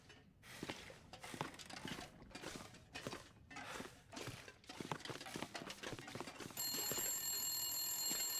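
Telephone ringing in The Long Dark survival game, a series of rhythmic bell-like rings repeating over several seconds, then a steady ringing tone, moderately loud with no talk.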